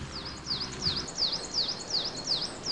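A bird by the Aliakmonas river near Kastoria, Greece, calls over and over in a steady series of bright, high, swooping notes, fairly close and loud, with no other sounds competing.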